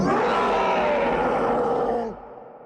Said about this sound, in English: and then processed it to sound like a dragon roar.